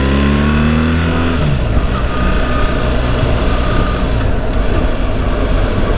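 A BMW R1300 GS motorcycle rides along a road, its engine droning loud and steady as the revs climb and then hold at a constant pitch, with no voices.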